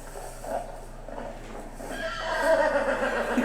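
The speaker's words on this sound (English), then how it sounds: "and then a horse neighing" A horse whinnies as a sound effect: a soft, muffled start, then a louder, rising neigh that swells near the end.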